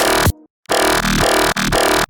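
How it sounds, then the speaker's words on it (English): A synthesized jump-up drum and bass bass built from a bent sine wave with phase distortion plays loud, dense, buzzing notes in rhythmic bursts, broken by brief silences and a short lower tone. "I've gone with a Monster 3 and a sine wave, and then just bent it a little bit, and then added some phase distortion."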